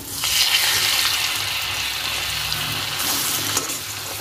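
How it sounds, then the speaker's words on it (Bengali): Parathas frying in oil in a pan at a home breakfast, a dense, steady sizzle heard up close with a couple of brief clinks. "পরোটা ভাজা হচ্ছে এদিকে"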